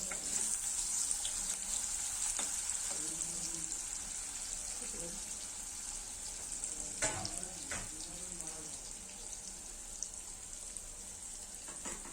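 Food sizzles steadily in oil in a wok, a constant close hiss of frying with occasional stirring clinks and faint talk underneath.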